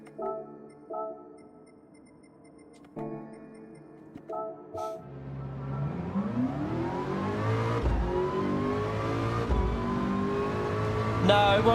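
A race car in Gran Turismo 7 starts after a few seconds of electronic menu tones, then its engine revs up loudly through several gear changes and keeps building toward the end.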